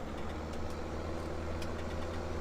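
A tractor engine idles steadily in Farming Simulator 17, a low continuous rumble that holds even and unbroken at close range with no one talking over it.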